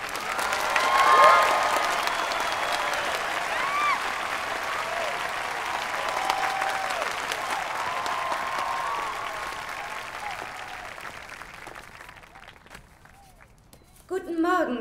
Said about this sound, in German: Ich bitte um Applaus für Gwen Stacy.